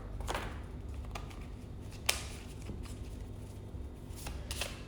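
Playing cards fall and scatter during shuffling, heard as soft riffling flutters and a few crisp taps, close and quiet, with no talk over them.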